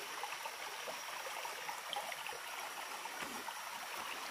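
Water in a stream rushes steadily through a ravine, a constant, even wash of flow with no voices over it.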